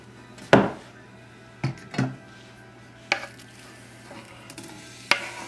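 Onions sauteing in a pan for chicken breast lyonnaise, a soft low sizzle under a few distinct clacks and scrapes of a utensil stirring against the pan, spaced irregularly and close, with no talk.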